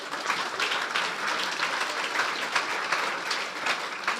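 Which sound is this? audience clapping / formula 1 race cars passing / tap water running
audience clapping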